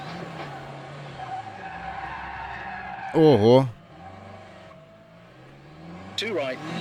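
A rally car in the Assetto Corsa Rally video game skids with two bursts of loud tire squeal over a constant engine drone that revs up near the end, with a short exclamation from a speaker and co-driver calls throughout.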